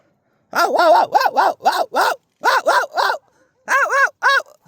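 A dog near a hillside village barks loudly and close, about a dozen sharp barks in quick clusters separated by short pauses, with no other sound.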